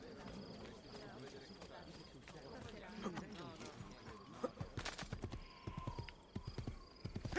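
Horse hooves clip-clop steadily in Assassin's Creed II, running under mixed game ambience with occasional birdsong and sharper, louder hoof strikes toward the end.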